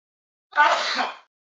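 A single human sneeze, short, sharp and close, heard alone against silence.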